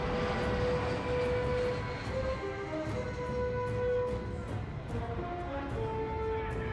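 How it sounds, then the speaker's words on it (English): Airliner landing in a Godzilla (2014) movie scene, a steady broad engine roar with sustained tonal whine that holds loud throughout, layered with shifting musical tones. "why is the plane still landing in Glasgow?"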